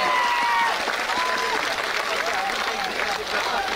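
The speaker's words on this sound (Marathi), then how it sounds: "म्हणून एकदा जोरदार टाळ्यांचा पुरस्कार झाला." A large crowd of Maratha supporters at a Manoj Jarange rally claps loudly and steadily, with thick massed applause and faint voices and whistles mixed through it.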